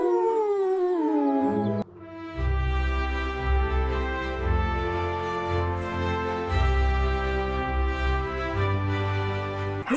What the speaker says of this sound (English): Chase lets out a joyful howl